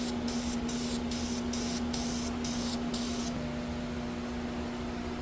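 Aerosol can spraying VHT epoxy paint onto the crossmember of a Nissan 350Z in a light coat, with a series of short, evenly spaced hissing bursts followed by a steady ambient hum.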